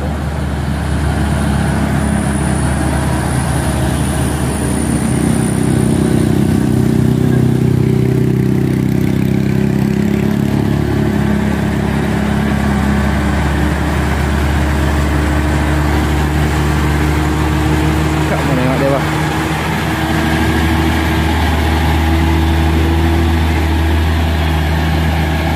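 A heavily loaded Mercedes trailer truck engine drones steadily at low pitch, laboring up a hill, continuous and close throughout with no voices.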